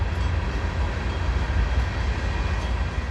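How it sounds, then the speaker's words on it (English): A train on the railroad dumps gravel ballast, a steady heavy low rumble with continuous grinding wash that holds constant, close and loud, throughout. "They're dumping ballast right now with the gravel."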